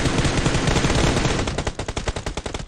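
Automatic gunfire in the PUBG Mobile battle royale game: a dense, loud burst of rapid shots that breaks into a quick rhythmic series of distinct cracks, with no talking.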